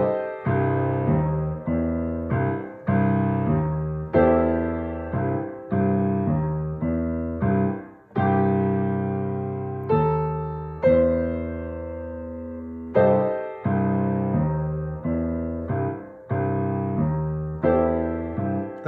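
Boogie woogie coordination exercise on piano with both hands together, a rolling left-hand bass pattern under repeated right-hand chords in a steady, bouncy rhythm, played alone and clearly up close.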